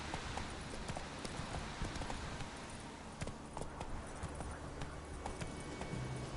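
Horse hooves clip-clopping steadily in The Witcher 3 video game, a continuous rhythmic run of hoofbeats over a dense game soundscape with no talk.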